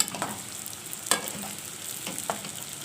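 Dried molokhia being stirred in a pot: a close, crackling sizzle broken by a few distinct scraping strokes of a spoon, spaced irregularly, with no talking.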